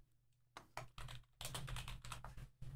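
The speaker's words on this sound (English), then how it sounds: "I'm typing it right now." Fast typing on a computer keyboard, close and fairly quiet, with dense bursts of clicking keystrokes separated by brief pauses and no speech.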